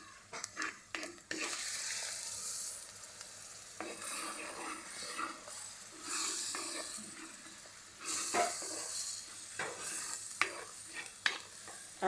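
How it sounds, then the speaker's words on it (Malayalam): Ground coconut goes into a simmering curry with chili powder, bringing loud spoon stirring and scraping in a pan over a soft sizzle, with sharp knocks at the start and near the end. "നമ്മുടെ തേങ്ങ ഒഴിക്കുവാണേ."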